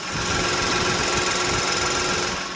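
A Genesis EQ900 sedan engine idles up close with the hood open, a smooth, even, regular hum and faint rapid ticking, steady and uninterrupted throughout.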